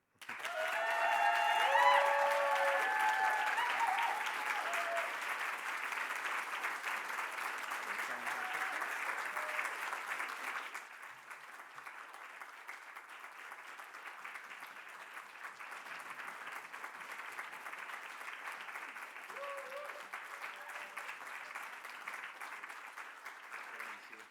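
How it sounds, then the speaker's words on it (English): Applause from an audience at the Scots Language Awards ceremony, loud and sustained at first, then easing to a steady, slightly quieter clapping that carries on throughout. "give a big round of applause for Morven Templeton."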